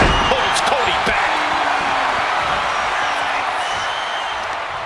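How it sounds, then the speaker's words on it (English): Arena crowd roaring continuously in WWE 2K26 during a WrestleMania match, a loud, dense wall of cheering with faint commentary beneath. "Just listen to this crowd. I can't hear myself think."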